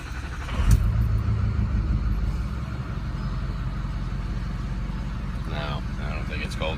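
A car engine cold-starts with a sharp burst of cranking and catching, then falls into a steady low idle rumble. Someone speaks over the idle near the end.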